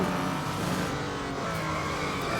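Aston Martin Vantage GT3 racing car in Real Racing 3, 426 horsepower with six gears, played on an iPad: a constant, loud engine roar at high revs with hints of tyre slip.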